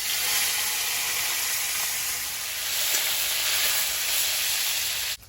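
Chopped neem leaves frying in hot oil in a kadai, a loud, even, continuous sizzle and hiss up close that holds steady for several seconds before cutting off abruptly.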